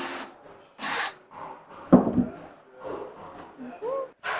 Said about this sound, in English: This one, drill from this side.